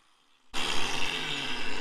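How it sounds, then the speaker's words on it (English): After half a second of quiet, a power saw starts abruptly and runs loud and steady as it plunge-cuts into a wooden window trim piece, with no talking. "just do a quick plunge cut, just to make sure that the depth is what you want"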